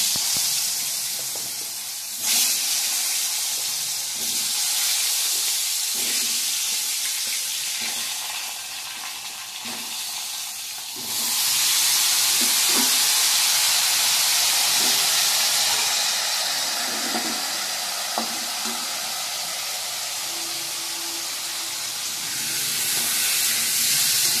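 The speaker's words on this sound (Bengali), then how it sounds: "এবার তেলের মধ্যে ছেড়ে দিলাম আলু।" Potatoes frying in hot oil, a steady loud sizzle and hiss with a few stirring scrapes through it, swelling brighter partway through and staying continuous to the end.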